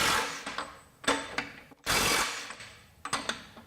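A Makita XWT17 mid-torque impact wrench hammering on a nut to break it free, in loud, rapid rattling bursts that stop and restart several times, close up with no talk.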